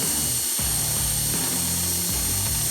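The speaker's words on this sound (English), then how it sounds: "So we'll drill that out and then we'll go to the next step." A power drill bores out the spindle of a Polaris RZR Pro R / Turbo R during a tie rod kit install, whirring loudly and continuously with the motor pitch rising and dipping as the bit bites, close to the microphone.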